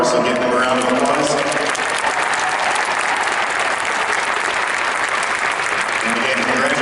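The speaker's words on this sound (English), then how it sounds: "give them a round of applause" A large crowd applauds FIRST Robotics alumni and interns at a regional competition's opening ceremony in an arena, with loud, dense, sustained clapping throughout.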